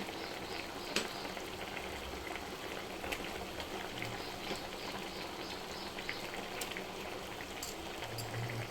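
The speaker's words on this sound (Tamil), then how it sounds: "பேச்சுலர் குழம்பு கொதிச்சிடுச்சு" Bachelor-style kuzhambu, a South Indian curry, bubbling at a steady boil in a pot, giving a continuous close hiss and simmer with soft scattered pops and no voices.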